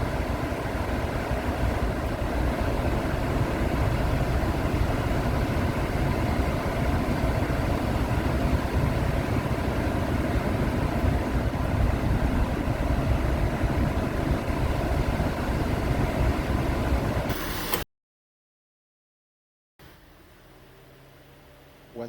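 A 2003 Honda Pilot engine idles with its AC cooling fans running, giving a steady, loud broadband hum and whir that holds for about eighteen seconds, then cuts off abruptly and is followed by quieter, muffled background noise.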